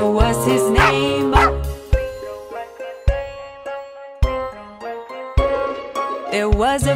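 Cartoon-style dog barks punctuate a children's nursery song about a farmer's dog, short loud yaps recurring every second or so between musical notes.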